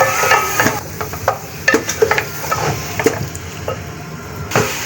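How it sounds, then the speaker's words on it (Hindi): Beef meat is stir-fried over high heat, giving a loud, close sizzle broken by repeated clattering stirs and scrapes of a spoon against the pot, with no speech. "अभी हम गोश्त को अच्छे तरीके से भून रहे हैं और आग हमने इसकी तेज़ रखनी है।"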